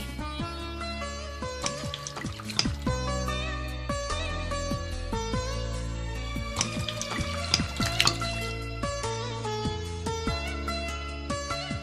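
Hot water pours in a continuous trickling splash beneath prominent background music, holding steady for the whole stretch with a few brighter splashes.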